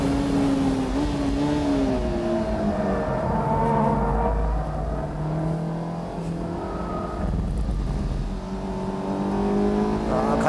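Race car engine at Fuji Speedway heard from inside the cabin, a loud continuous droning note that climbs and falls through gear changes and corners, with someone talking over it.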